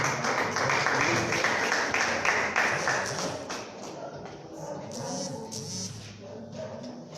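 A church congregation claps for Jesus as a pastor is welcomed to preach, a loud, busy wash of many hands that thins and softens toward the end, with voices mixed in.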